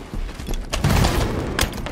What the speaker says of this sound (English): Rockets are up.